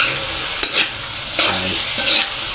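Hotdogs being stirred as they fry in a pan, with a few scraping strokes over a constant bright sizzle, close up and with no talking.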